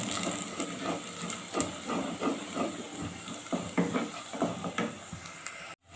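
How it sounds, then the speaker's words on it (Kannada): Onions and curry leaves frying in oil for a spicy Mangalorean mackerel curry, heard as a dense, continuous hiss with scattered crackles and pops, close and steady until it stops abruptly near the end. "ಈರುಳ್ಳಿ ತುಂಬ ಚೆನ್ನಾಗಿ ಫ್ರೈ ಆಗಿದೆ"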